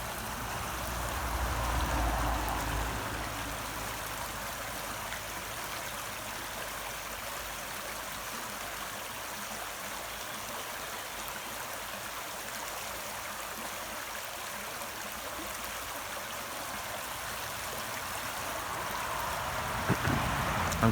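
The River Arrow flows near the Welsh border in Herefordshire as a steady, even rush of moving water, close and constant for about twenty seconds, with no voices.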